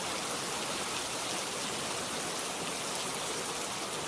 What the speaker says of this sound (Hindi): अचानक से रात को बारिश शुरू हो जाती है।